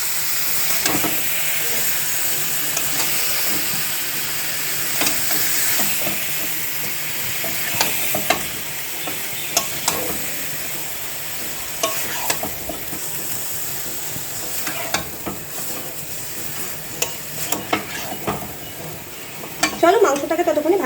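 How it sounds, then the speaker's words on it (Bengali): Chicken pieces are stir-fried in masala in a pan with potatoes and soya, giving a steady close sizzle and hiss broken by repeated scraping and stirring knocks of the spatula, without talk. "এবার ভালো করে মাংসটাকে কষিয়ে নেব।"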